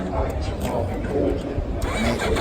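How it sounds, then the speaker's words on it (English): A turbocharged Hayabusa race motorcycle fires up on a cold track during a night race at the European Finals. Its engine rumbles and catches under a commentator talking over it. "Had a little trouble firing it up finally. CBD machine comes to life."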